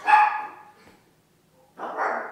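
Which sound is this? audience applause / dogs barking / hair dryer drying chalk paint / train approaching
dogs barking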